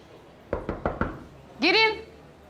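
Four sharp, evenly spaced knocks on a door in a quiet room, followed immediately by a voice calling out.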